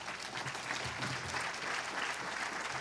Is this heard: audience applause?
yes